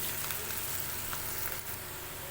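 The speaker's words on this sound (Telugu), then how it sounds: "ఇలా వే మధ్య మధ్యలో కలుపుతూ వేయించుకోవాలి" Bitter gourd and onion fry in hot oil with a constant fine sizzle and faint occasional stirring scrapes, steady and fairly quiet throughout, no voices.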